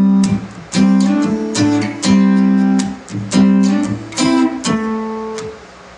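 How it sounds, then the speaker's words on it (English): Electric guitar plays a lead line of double stops, two notes sounded together, in repeated bright, punchy hits with short gaps between phrases, close and alone. "take your finger off and you've got a double stop."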